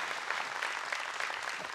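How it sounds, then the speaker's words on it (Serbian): A studio audience on a Serbian variety show applauds steadily, dense clapping sustained at an even level from start to finish with no talk over it. "Jedan aplauz za sve nas"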